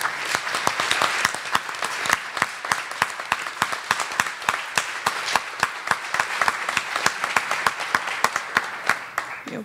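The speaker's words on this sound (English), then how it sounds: "I just want to give you all an applaud" Congregation at a spiritual living centre gives a sustained round of applause, many hands clapping with a few sharp, distinct claps standing out in a fairly steady rhythm all the way through.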